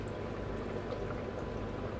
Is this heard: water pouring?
yes